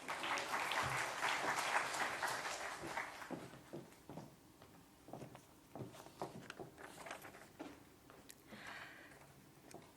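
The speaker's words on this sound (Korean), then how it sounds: "박수로 환영하겠습니다" Applause from a live recovery event's audience greets a married couple coming to the stage, fuller at first, then thinning into scattered, fading claps and small shuffling noises.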